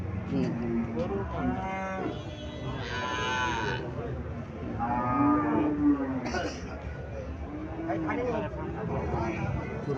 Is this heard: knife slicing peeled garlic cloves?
no